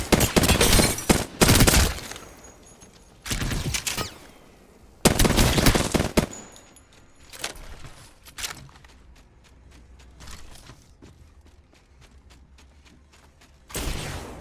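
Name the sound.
SMG burst fire in Apex Legends video game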